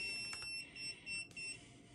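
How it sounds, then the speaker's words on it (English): A Spider Farmer inline fan controller with its humidity and temperature sensor unplugged gives off a faint, steady high-pitched electronic tone that runs through the whole clip, broken by a couple of soft knocks. "what is that beeping sound? Well, that's because the sensor"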